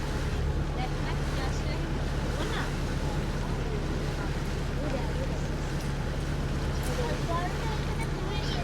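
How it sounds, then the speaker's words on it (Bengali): A speedboat sets out on a river in the Sundarbans, its engine a steady, continuous drone with wind and water noise throughout, while people talk over it. "দেখুন স্পিড বোটটা নিয়ে বেরোচ্ছে।"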